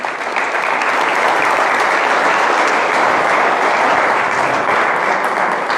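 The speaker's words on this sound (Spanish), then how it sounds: "Dale un aplauso al Señor." A congregation applauds during a Spanish-language church sermon, dense, loud, sustained clapping that fills the whole clip, heard close and alone.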